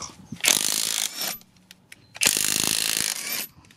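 Cheap AliExpress impact wrench rated 2800 Nm tightening a nut, two loud close bursts of rapid rattling hammering, each about a second long, separated by a short quiet gap.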